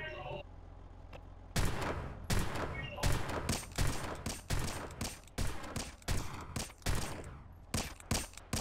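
Rapid bursts of video game gunfire crack repeatedly in quick volleys, loud and close, after a brief quieter opening.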